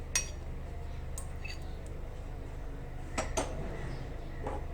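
Utensils clink against a pressure cooker as ingredients for Punjabi-style rajma masala go in. A few sharp metallic taps, one early and a pair later, sound close over a steady low kitchen hum.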